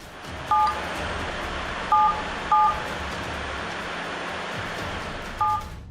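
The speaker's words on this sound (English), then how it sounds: "hits a completely different number, followed by 2 sevens and an asterisk" Four short touch-tone beeps from a phone dialing a number, spaced irregularly over a steady background hiss, each tone clear and distinct.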